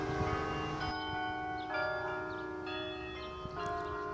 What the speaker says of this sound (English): The sound of church bells across Indiana is a familiar one.